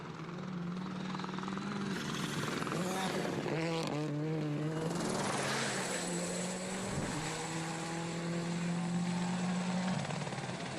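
A helicopter flies over a rally stage in Portugal, its steady rotor drone shifting in pitch as it passes, loud and continuous with a brief engine-like rise in the middle.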